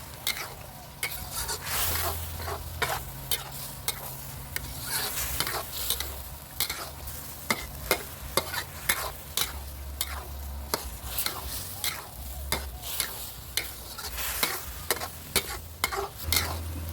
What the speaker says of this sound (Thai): แล้วก็คนให้มะเขือเนี่ยถูกความร้อนถูกน้ำซอสผัดให้ทั่วถึงเสมอกันนะครับ